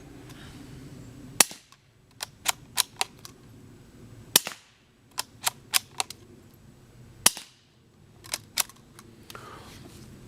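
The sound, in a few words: suppressed .22LR rifle shots, STILL SAPL sound moderator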